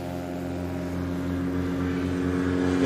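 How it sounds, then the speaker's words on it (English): A propeller aircraft at a STOL competition in Pinedale, Wyoming runs up to speed with a steady droning engine and buzzing propeller hum that swells slightly louder over a few seconds, heard from a moderate distance without talk. "get that aircraft up to speed"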